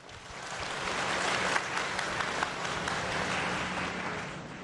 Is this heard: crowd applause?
yes